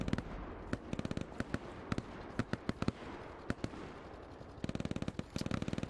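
Rapid bursts of rifle and machine-gun fire in the World War II shooter Hell Let Loose, fighting around Sainte-Mère-Église, with sharp clustered shots cracking close by over a low rumbling battlefield bed, quieter gaps between volleys.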